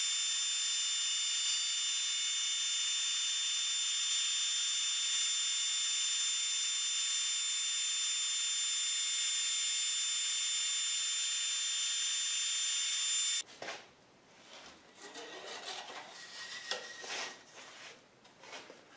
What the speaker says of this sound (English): let me advance my carriage forward, and I'll cut a piece of wood off, maybe 50 thousandths of an inch thick